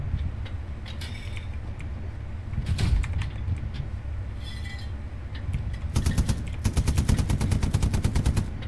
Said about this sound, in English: Just keep shooting anything that crosses that field where that tank was.